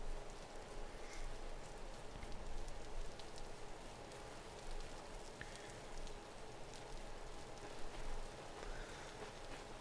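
Continuous rainfall in the survival game Vintage Story, an unbroken hiss of drops on surfaces with faint scattered patters, heard alone without talk.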